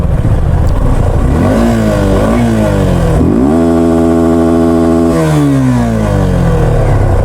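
A vehicle engine revs loudly and close several times on a Ladakh mountain road, its pitch climbing and falling in repeated surges, with one long sustained high rev in the middle.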